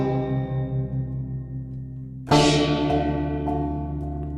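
A chord struck on a bank of tuned gongs, with the splash setting switched on, rings out in long sustained overlapping tones, then a hard second strike lands with a bright metallic burst and decays slowly; no speech.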